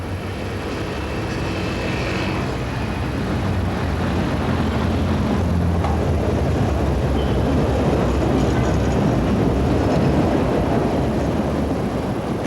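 An old tram rolls along boulevard Chave in Marseille, a continuous rumbling, rattling drone with a faint high squeal, steady and fairly loud throughout.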